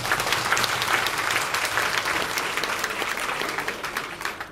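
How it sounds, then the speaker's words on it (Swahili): Steady, dense applause from a large audience at a political gathering fills the space, a continuous wash of many hands clapping at close range with no pauses, alone without speech. "Naomba tuongeze makofi kidogo."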